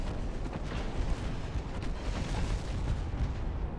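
A battleship's ammunition detonating in the naval strategy game Ultimate Admiral: Dreadnoughts, a sustained rumbling roar of blasts and crackling fire, loud and continuous without breaks.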